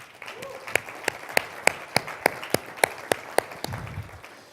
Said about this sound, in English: One more round of applause for the startups.